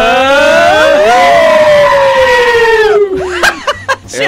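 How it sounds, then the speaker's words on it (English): Goat scream and wolf call sound effect played on a radio show: layered long wavering howls and a strained bleating scream slowly sliding downward, loud and close, then breaking into short bursts of laughter-like sounds and chatter at the end. "She had the goat scream in there with it."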